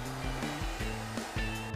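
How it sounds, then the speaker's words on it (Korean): A hair dryer blowing hot air onto white paint sprayed over a blue base while decorating an old entrance doorway, a steady whooshing roar broken by short pauses and repositioning, with no talking. "드라이기로 열을 가한다."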